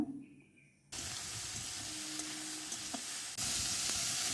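Onions drop into hot oil in a pan over a wood fire for a snail (gugli) curry, bursting into a sudden loud, steady sizzle after a quiet moment, then surging louder again as more goes in.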